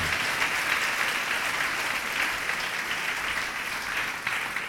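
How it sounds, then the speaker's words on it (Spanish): Congregation applauding during a church service, steady sustained applause from many hands filling the room throughout, loud and continuous with no break. "Denle una ofrenda de palmas al Rey de Gloria."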